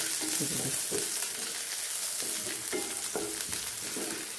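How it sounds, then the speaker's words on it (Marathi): Crushed garlic sautés in oil with cumin and mustard seeds, a close steady sizzle broken by repeated scraping strokes of a spatula stirring the pan. "आता लसूण आपल्याला व्यवस्थित परतून घ्यायचा"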